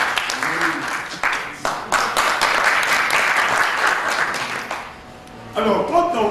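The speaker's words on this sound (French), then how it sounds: "Vous voulez qu'on l'applaudisse?" Audience applauding a doctor at a medical event in Congo-Brazzaville, a sustained burst of clapping that fades briefly before a voice speaks at the end.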